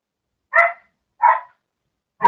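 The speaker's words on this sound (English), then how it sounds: "Yes, that silly dog. He's outside" A dog barks outdoors in three short, sharp, evenly spaced barks, each separated by silence, fairly close and loud, with no talking.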